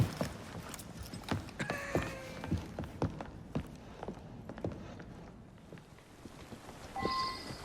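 Hooves of a horse-drawn carriage in Assassin's Creed Syndicate clop at a walking pace amid soft rolling and creaking, fairly faint, with a short musical chime at the close.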